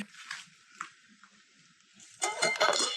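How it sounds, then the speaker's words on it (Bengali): A pan holding a thick cooked semolina mixture for biscuits is covered with a lid, giving a cluster of loud metallic clinks and clatters near the end after a quieter stretch of faint kitchen noise. "এ পর্যায়ে আমি ঢাকনা দিয়ে ঢেকে রেখে দেবো 5 মিনিটের জন্য।"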